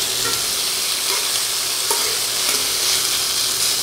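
Pork pieces browning in a hot pan for a slow cooker stew, a loud, dense and continuous sizzle close by with a few faint utensil taps.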